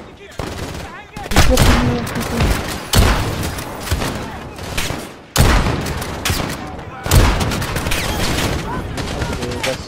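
Heavy video game battle gunfire, repeated loud bursts of rapid shots and booming impacts in waves, with someone talking briefly over the shooting.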